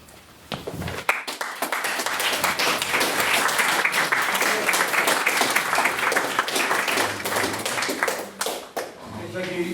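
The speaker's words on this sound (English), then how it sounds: "Can we have another round of applause for a very successful maiden speech?" Audience at a debating society motion on supporting the Israeli government applauds a successful maiden speech, steady loud clapping filling most of the clip, with brief voices near the start and end.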